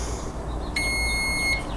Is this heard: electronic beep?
yes